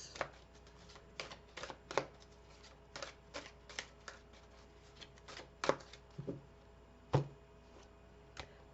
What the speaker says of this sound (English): let's pull one last card here for Taurus